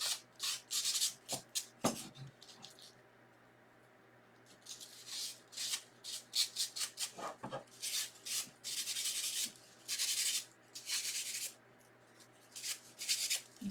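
Material being pressed down and smoothed by hand onto a wooden candy corn craft piece, producing repeated bursts of close rubbing and scraping strokes separated by brief pauses.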